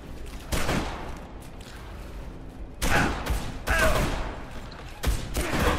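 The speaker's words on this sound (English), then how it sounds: "I hear gunfire." Gunfire in the video game Dead Island comes in several sharp, booming bursts spread across the moment, some clustered in rapid volleys, over a low background rumble.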